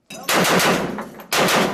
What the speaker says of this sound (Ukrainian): этажом выше работает сейчас АГС, это автоматический гранатомет в сторону аэропорта